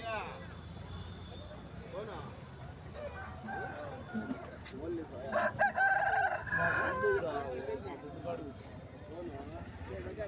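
Roosters crow amid a busy outdoor crowd at the Rayachoti weekly market in Kadapa district, a loud cock-a-doodle-doo rising midway over constant chatter and background clucking.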